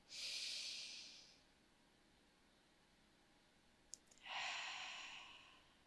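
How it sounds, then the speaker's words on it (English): Two slow, deep breaths drawn in close to the microphone during a guided energy meditation, each a soft airy hiss lasting about a second, separated by a quiet pause and a small click. "So taking a deep breath in."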